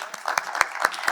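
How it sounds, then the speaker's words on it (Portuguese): A short burst of audience applause at a Portuguese-language conference session, a handful of distinct claps standing out over a general patter of clapping. "Uma salva de palmas"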